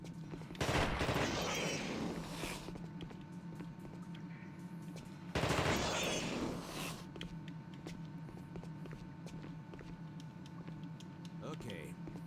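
Machine gun fire in The Thing video game, two sustained bursts of rapid rattling shots a few seconds apart, fairly loud over a steady low game soundscape, with speech around them.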